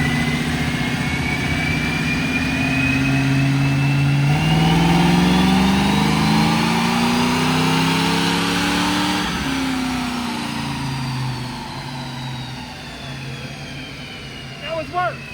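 Car on a dyno run: engine revs rise in a long climbing pull, then drop and settle near idle, loud and close, with people talking over it.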